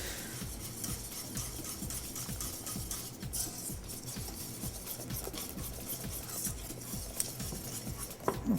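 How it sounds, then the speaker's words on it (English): Flour being whisked into a creamy batter in a bowl gives a fast, steady rhythmic scraping and ticking of metal wires against the sides, continuous and close throughout with no talking. "Now we start adding our flour. Careful not to whisk too fast like I just did"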